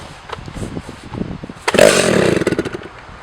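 A Jonsereds XG chainsaw, a little too rich, is started on pre-start and held at high RPM: quiet at first, then a loud, close, ragged roar that jumps up sharply and keeps revving with uneven surges.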